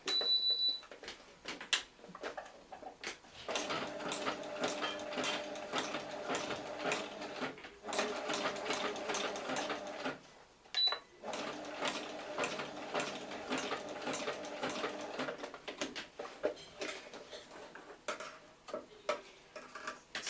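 A sewing machine stitches fabric for flag poi, running forwards and backwards in a steady mechanical ticking chatter that pauses briefly a few times, close and without talk.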